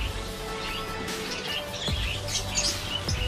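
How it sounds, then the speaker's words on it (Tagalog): Small caged birds at a pet stall in a busy bazaar chirp and tweet in quick, bright bursts over a constant murmur of market bustle. "Mga mahihilig po nag-aalaga ng ibon dyan."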